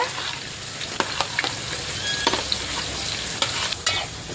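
Sliced onions, curry leaves and green chillies frying in a pan for a dried fish curry, a loud steady sizzle broken by sharp scrapes of a stirring spoon, with no talking.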